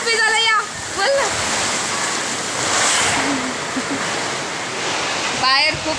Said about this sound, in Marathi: बाहेर खूप पाऊस आहे. अचानक पाऊस आलाय.